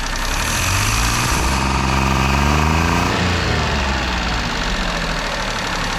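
A Japanese Hijet mini truck engine with a new carburetor and distributor problems revs up then bogs down when the accelerator pump kicks in, a loud close engine drone that sags and labours unevenly.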